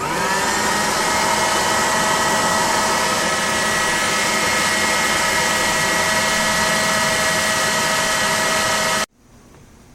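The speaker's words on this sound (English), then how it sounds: "So I'm going to go ahead and turn my food processor on" Food processor blending powdered sugar for hot cocoa mix, a loud, steady whirring motor roar held for about nine seconds before cutting off sharply into near silence.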